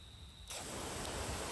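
After a brief quiet moment, an Orbit Pro Series garden hose nozzle with metal body bursts into its shower pattern, a sudden steady hiss of water spray that continues evenly to the end.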